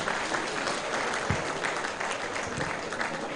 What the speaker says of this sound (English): you will give him a thunderous round of applause